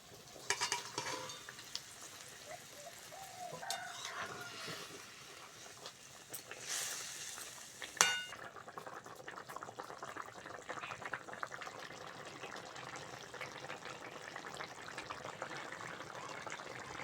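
Fried tilapia pieces slipped into a boiling spicy mustard-oil curry, with a brief bright splash and sizzle, spoon clinks and stirring, then a steady soft bubbling simmer, close and quiet.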